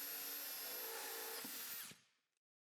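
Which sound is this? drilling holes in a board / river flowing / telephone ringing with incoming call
drilling holes in a board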